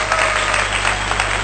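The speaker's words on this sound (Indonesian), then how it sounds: "Tepuk tangan dulu." An indoor audience gives steady, dense clapping for the whole stretch during a motivational talk, loud and continuous with no pause.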